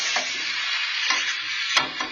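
Smashed meatball patties frying in a pan give a loud, steady sizzle throughout, with a few faint stirring or scraping touches on top; no voices.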